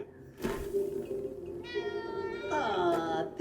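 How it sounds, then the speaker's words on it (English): Mutant ice cream pet cat from the cartoon series Teenage Mutant Ninja Turtles (2012) lets out a couple of loud, bright, drawn-out meows up close, with people talking over and around them. "She's Mikey's ice cream mutated pet cat, yo."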